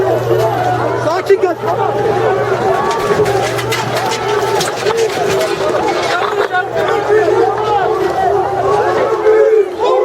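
A large protest crowd clashing with police in Turkey roars and shouts in a dense, continuous din, with scattered bangs and a low steady hum underneath.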